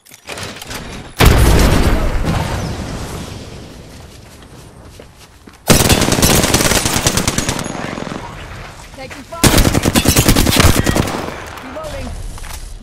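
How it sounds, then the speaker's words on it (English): Grenade blasts and heavy gunfire in a squad-based shooter video game, three loud broadband bursts at intervals with dense rapid fire rattling between them. "Frag out. Grenade."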